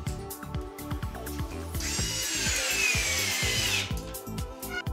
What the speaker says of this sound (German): Danach drehen wir die Schrauben auch schon ein.